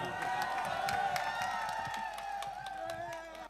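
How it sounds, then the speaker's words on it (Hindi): An audience at an All India Mushaira poetry gathering in Ludhiana claps and cheers, fairly faint and distant, with sustained tones ringing underneath and the applause easing slightly toward the end. "जोरदार तालियों के साथ।"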